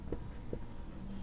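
Pen writing on paper during a math lesson, two faint quick scratching strokes over quiet room tone.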